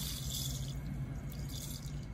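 Water poured for grape juice runs in a steady, continuous stream into a container for about two seconds, moderately loud and close, with no talking.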